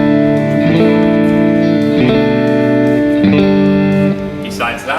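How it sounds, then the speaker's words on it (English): Clean electric guitar through a basic room reverb, strumming sustained chords that shift about once a second, ringing into a soft ambient tail, close and alone with a brief scrape at the end. "I'm going to add in a little bit of reverb first."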